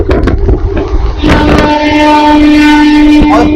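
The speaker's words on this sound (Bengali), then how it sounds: "দেখো বন্ধুরা আমাদের ট্রেন ওভারটেক করছে।" A Howrah–Kharagpur local train running alongside near Uluberia station, a loud close rumble of wheels followed by a long, sustained horn blast.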